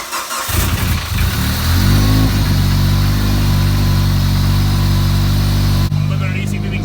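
Mitsubishi Evo 8 engine cranks and catches, then settles into a loud, steady, close-up running note that rises briefly. Voices talk over the engine noise.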